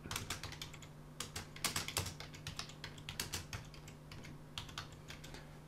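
Steady computer-keyboard typing of text into a rich text editor field, with quick clustered keystrokes in an uneven rhythm, close and fairly quiet, over a faint constant electrical hum and no talk.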